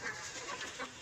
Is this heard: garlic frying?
no